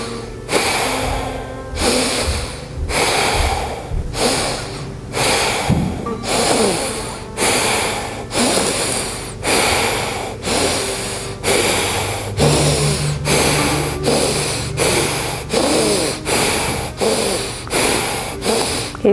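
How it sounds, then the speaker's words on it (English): Fast, deep rhythmic breathing driven by the belly, loud and close, a long run of forceful huffing breaths at a quick, steady pace that speeds up slightly, with no talking. "the breaths are as deep and full as you can get them, and start to increase the pace over and over and over"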